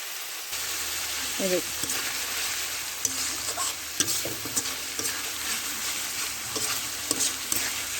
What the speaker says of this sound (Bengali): হালকা আঁচে ভাজতে হবে কষে নিতে হবে মশলাটা